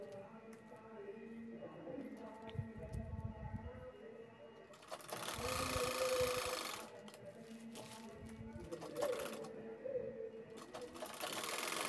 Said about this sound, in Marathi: हा बेल्ट परत खालच्या साईडने शिवून घेत आहे